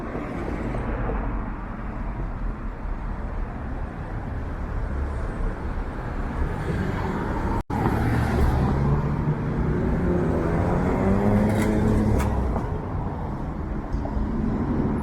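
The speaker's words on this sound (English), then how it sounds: "Certainly no lack of traffic here on a Friday night." Friday night road traffic in North York, Toronto: a steady, close roar of cars passing continuously, loud and unbroken, with no talking.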